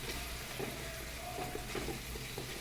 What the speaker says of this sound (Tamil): நல்லா ஒரு நிமிஷத்துக்கு வதக்கிடணும்